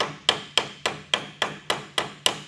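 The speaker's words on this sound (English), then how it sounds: "It doesn't take much hammer action" Hammer tapping a Camaro door hinge pin into place, eight sharp, evenly spaced metallic taps about a third of a second apart, close and crisp, with no talk.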